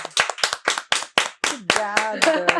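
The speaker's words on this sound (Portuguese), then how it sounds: "Salva de palmas!" A small audience at a talk on environmental compliance claps in sharp, distinct hand claps, a few quick irregular claps at first, then a voice joins over continued clapping.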